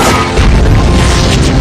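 A loud explosion in The Great Wall (2016) movie, a dense, roaring blast that fills the short moment without letting up.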